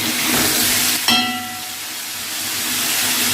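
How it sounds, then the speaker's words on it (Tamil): Tomatoes with a little salt sautéing in a pan for a Tamil mochai kulampu, a steady bright sizzle with a brief clatter of stirring partway through, fairly loud and close. "கொஞ்சமாக உப்பு சேர்த்து நல்லா கிண்டிக்கலாம்."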